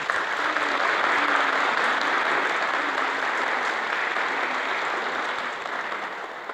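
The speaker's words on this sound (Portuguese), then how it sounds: "Uma salva de palmas." Sustained applause fills a church service hall as a congregation in Balneário Camboriú welcomes a new member, a dense, even wash of many hands clapping that holds steady and only slightly softens near the end.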